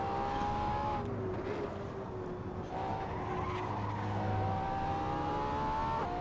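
Race cars in the driving game Assetto Corsa: a continuous engine whine shifting pitch with gear changes, under a loud wash of tire skidding and squeal, with several brief sharp clicks along the way.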